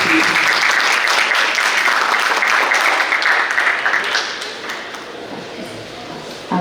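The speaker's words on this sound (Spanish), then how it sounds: "un gran aplauso también a la maestra Olga Ferri." Loud, sustained applause from a large audience at a ballet presentation, dense clapping that fades somewhat toward the end.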